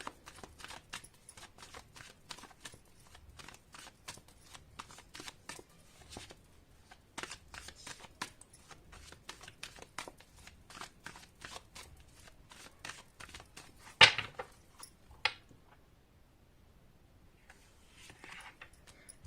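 Tarot cards being handled and shuffled, giving a long run of quick, crisp riffling flicks at a steady rhythm, close but soft, ending in a couple of sharper slaps and a quiet pause, with no talking.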